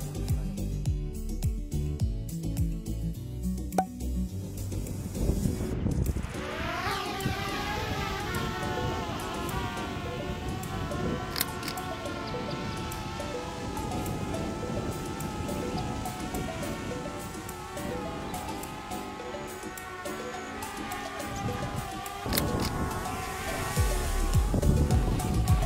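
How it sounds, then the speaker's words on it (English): Strong wind buffets the microphone on a gusty outdoor day, a loud continuous rumbling roar with occasional heavier gusts and a faint tonal hum running through it. "As you can see, it's a pretty windy day,"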